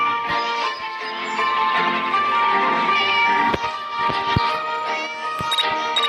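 Repeated cat meows, tonal and drawn out, in the game Hello Teacher, over a continuous synthetic game soundtrack, loud and up close, with no one talking.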